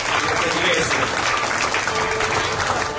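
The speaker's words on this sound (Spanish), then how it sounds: "Un aplauso fuerte." A church congregation applauds, a dense, steady wash of clapping from many hands filling the whole space for about three seconds without a break.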